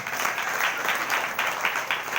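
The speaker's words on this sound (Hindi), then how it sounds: "जोरदार ताली से प्रभु धन्यवाद" Applause rises from a congregation at a Sunday church prayer meeting: steady, dense clapping from many people that continues unbroken throughout.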